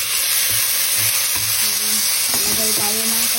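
Garlic and tomato frying in a pan, a loud, close, continuous sizzle with occasional stirring scrapes and small pops throughout.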